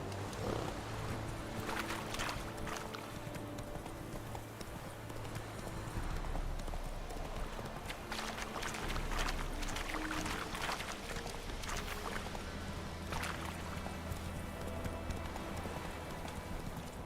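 Hooves of Roach, the horse in The Witcher 3: Wild Hunt, clopping steadily under a thick, continuous wash of game ambience and music, fairly faint and blended throughout.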